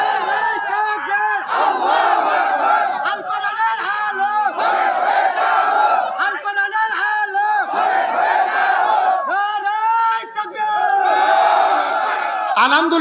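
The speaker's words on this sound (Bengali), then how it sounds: "দেন একজন তাকবীর দেন দেখি" A large crowd at a Bangla religious sermon gathering chants the takbir in unison, a loud, sustained roar of many voices rising and falling in repeated waves.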